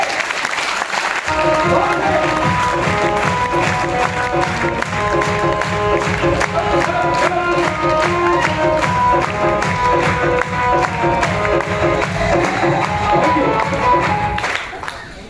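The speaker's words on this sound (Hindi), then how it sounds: "तालियां बजा दो, दम लगा के" A large audience at a motivational seminar claps loudly and continuously for about fourteen seconds over a steady tonal backing, the dense applause cutting off near the end.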